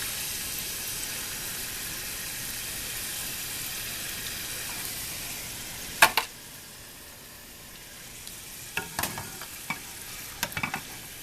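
French fries frying golden brown in hot oil, a steady bright sizzle with a broad hiss that holds evenly throughout, with a few sharp pops and crackles late on and no talking.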